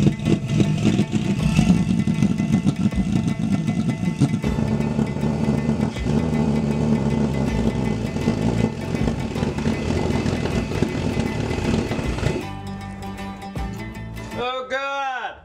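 A 3D-printed plastic ThermoJet pulsejet engine roars loudly and continuously, a harsh sustained blast that cuts off abruptly near the end, leaving only a short, quieter tail.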